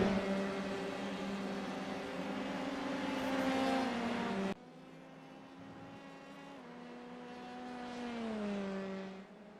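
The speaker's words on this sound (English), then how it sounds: "Final couple of cars coming across the start-finish line" Race car engines in a Formula 3 style racing sim at Road America, droning steadily with tones that shift and fall as the cars pass, one engine cutting out sharply midway and another taking over.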